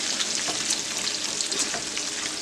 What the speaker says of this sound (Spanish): Moviéndole que no se nos pegue el tocino.